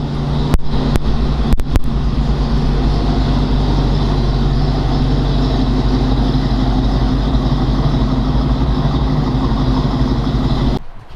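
A 1940 Ford Deluxe Coupe with a Ramjet 350 engine idling steadily, a loud, close, continuous low rumble with a few sharp clicks near the start and no talk.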